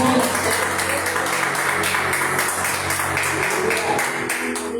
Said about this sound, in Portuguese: Pode aplaudir o Senhor Jesus.